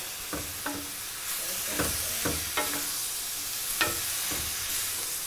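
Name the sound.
shrimp fajitas sizzling and being stirred in pan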